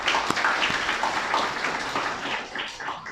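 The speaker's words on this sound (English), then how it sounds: "So give a big round of applause to these excellent speakers again." An audience at an education event in Cambodia claps for the speakers, a brief burst of moderate applause that fades over about three seconds.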